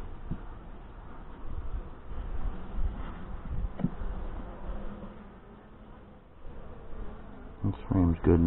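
Honey bees from an open Saskatraz hive make a dense, steady swarm-like buzz close by, with rustling and light knocks from the frames being handled and a brief voice near the end.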